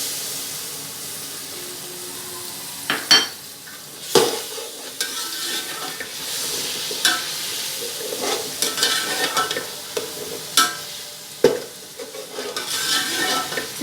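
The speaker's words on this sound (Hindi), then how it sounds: "इसे 4 से 5 मिनट फ्राई करते हैं।" Ginger garlic paste sizzles and fries in a hot pan, with intermittent scraping and clinks of a spoon stirring against the metal.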